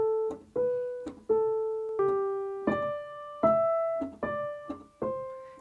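A short beginner sight-reading passage on piano, with four outer notes played normally and four inner notes joined smoothly in legato. The single-line melody steps through sustained tones, played close and clear with no speech.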